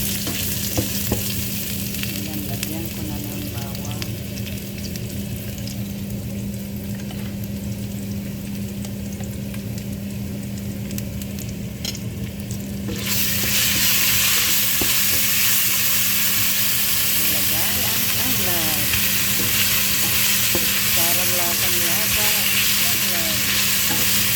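Garlic, onion and ginger sizzle steadily in a pan, a constant close frying hiss that grows louder partway through, with occasional stirring scrapes and no talk.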